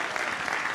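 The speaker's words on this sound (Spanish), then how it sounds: "Fuerte el aplauso, señoras y señores." Steady applause from a studio audience at an Argentine television talk show, dense clapping heard close and even for the whole short moment.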